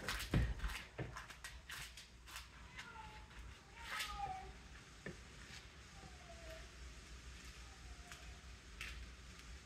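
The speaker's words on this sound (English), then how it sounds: "You guys hear the cat?" A cat meows several times in a home kitchen where cereal bars are being made, thin rising cries scattered over about ten seconds amid handling and clatter of bowls and utensils.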